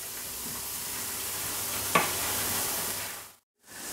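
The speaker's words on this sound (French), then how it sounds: "je vais mélanger et je vais laisser cuire mon herbe à peu près 3-4 minutes pour qu'elle s'infuse correctement dans mes oignons" Fresh herbs and onions cooking in a saucepan, a steady soft sizzle with a single spoon tap near the middle before the sound cuts out briefly.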